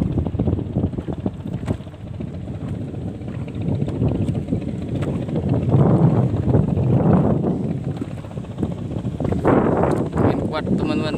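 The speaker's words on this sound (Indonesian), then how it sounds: "angin kuat." Strong wind blows beside a river in Indragiri Hilir, Riau, buffeting the microphone with a continuous low, roaring rumble that swells and eases in gusts for the whole stretch.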